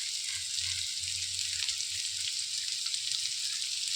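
Chopped onions sauté in a hot pan, giving off a steady bright sizzle with faint crackles, close up and continuous with no talk over it.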